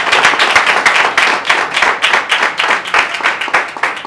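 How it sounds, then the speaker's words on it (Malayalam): Guests at an engagement ceremony clap together in a loud, close, continuous burst of applause, dense hand claps with uneven rhythm sustained throughout without speech. "നല്ല പിന്തുണയോടെ കൈയടിച്ചു."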